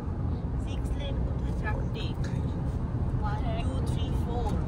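A car cruises fast along a wide eight-lane expressway in Rajasthan, giving a steady, loud road and wind roar inside the cabin while people talk over it.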